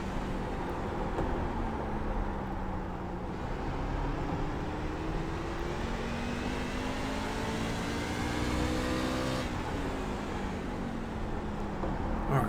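Race truck engine in iRacing at Martinsville, a steady droning roar with rising and falling pitch as the truck accelerates out of the turns and eases off, with no voices.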